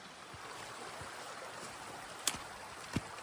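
A creek flows beside a mountain hiking trail in Kananaskis, a soft, steady wash of running water at moderate distance, with a couple of brief sharp clicks or taps near the end.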